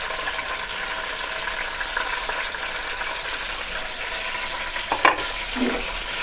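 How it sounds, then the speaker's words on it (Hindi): Bay leaf and cumin fry in about a cup of hot ghee in a kadhai, giving a loud, steady sizzle throughout with a brief clatter and stir near the end; no voices. "तकरीबन 1 कप वो घी हमारा गर्म भी हो गया है। अब हम तेज़पात डाल दें"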